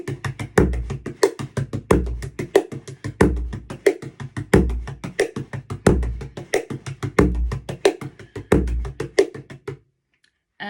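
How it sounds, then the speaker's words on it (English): Bodhrán frame drum played in a steady rolling rhythm, deep accented low strokes alternating with higher tones and softer strokes between, close and clear, stopping abruptly near the end. "low and high tone with everything else in between that's a no tone."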